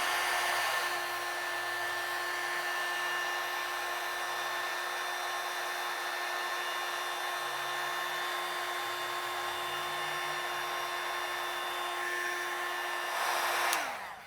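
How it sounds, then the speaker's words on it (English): A mini heat gun shrinks heat shrink tubing on an instrument cable, blowing a steady, close whooshing hum with a faint whine for about fourteen seconds before it switches off and winds down. "I've got this little heat gun, which works pretty well for stuff like this."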